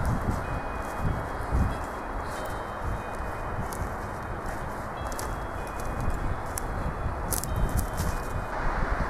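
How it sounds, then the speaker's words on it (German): Strong wind moves through forest trees, making a continuous rushing, rustling wash of leaves that swells and eases slightly, with a few faint crackles and taps scattered on top. "Denn der Wind geht immer noch recht stark."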